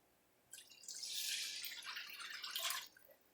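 Plain water poured into a pot while making Cincinnati chili, a steady splashing stream lasting a couple of seconds, fairly close and alone before trailing off.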